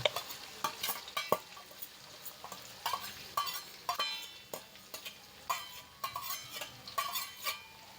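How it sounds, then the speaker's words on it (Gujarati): Chopped onion with cumin sautéing in a pan, a steady sizzle broken by repeated scraping stirs of a spoon against the pan, close and fairly quiet, with no talk. "કાંદાને હું બે મિનિટ માટે સાતળી લઈશ જેથી કાંદાની કચાશ દૂર થઈ જાય"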